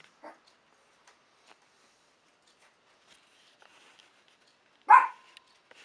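A small dog gives a faint bark near the start, then a single sharper, louder bark near the end, with near silence between.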